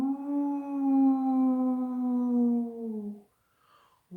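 A voice imitates wind blowing with a long, sustained wavering howl that holds steady for about three seconds, then stops, with a faint breathy trailing sound after.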